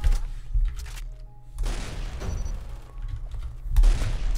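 Shotgun blasts from the video game Aimblox, several heavy booming shots spaced irregularly, fairly loud and close, with a strong low-end thump on each discharge.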